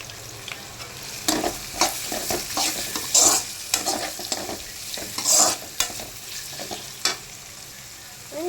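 Onions and carrot pieces frying in a pan for a semiya upma, a low sizzle under repeated scraping and clattering strokes of a spoon stirring, close and uneven in rhythm, with no talking.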